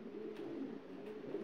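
Pigeons in a loft give a low, continuous throaty cooing, close and soft, with no other sounds over it.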